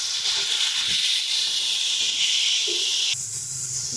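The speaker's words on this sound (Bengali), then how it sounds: "একটু সামান্য পরিমাণে জল দিয়ে দিচ্ছি," A small splash of water hits frying spice paste for a Bengali eggplant poppy-seed dish, sending up a loud, steady hiss of steam that holds throughout, with a brief low clunk partway in.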